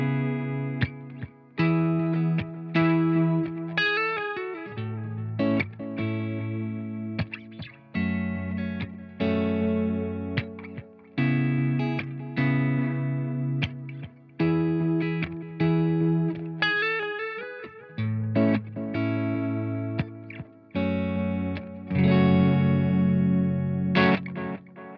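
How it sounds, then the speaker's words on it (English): An electric guitar plays a repeating chord pattern, each note trailing into shimmering, warbling echoes from a modulated delay. "There's a lovely modulation on that delay sound as well."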